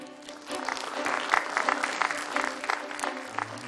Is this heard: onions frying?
no